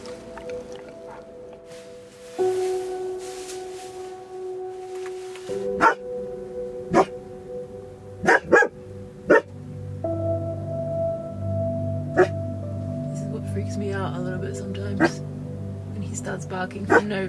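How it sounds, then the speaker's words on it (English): A dog at a wild forest campsite in the Yukon at night gives a series of sharp, separate barks, loud and close, scattered irregularly over a steady low hum. A person speaks in between. "Barking for no reason, but since there's forest everywhere here, I can't see anything"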